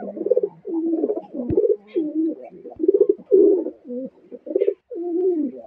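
A pigeon coos repeatedly up close, steady throaty rolling calls one after another with brief gaps, no talking.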